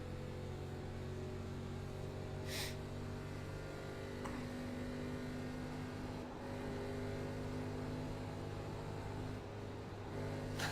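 A race car engine in the iRacing sim during a K&N series race at Charlotte drones at a steady pitch, a constant mechanical hum with faint shifts in tone and no talking.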